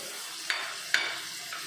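Whole spices, including cumin, green and black cardamom, cloves and mace, hit hot oil for a Sindhi chicken biryani, giving a soft steady sizzle with two brief sharp crackles, fairly quiet and with no talking.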